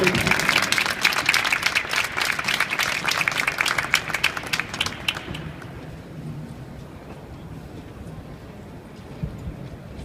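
An audience at an oratory debate event applauds the bâtonnier of Montreal: dense, steady clapping for about five seconds that then stops abruptly, leaving quiet room tone.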